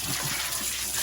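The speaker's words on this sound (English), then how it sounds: "Just rinse it off with cold water first, and then you can use the warm water" Cold tap water running over a plastic nokedli and spaetzle maker as it is rinsed in a kitchen sink, a steady close splashing hiss with no voices.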